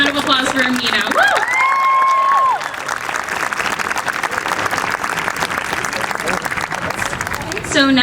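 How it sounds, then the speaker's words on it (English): A high school jazz night audience applauds a student performer, with steady loud clapping and some cheering. A host's voice rides over the start, then the applause carries on alone. "One more round of applause for Mina."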